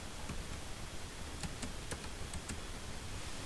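Keyboard typing as a quadratic equation is entered into the input field of a computer program: scattered light key clicks over a steady background hiss, with no talking.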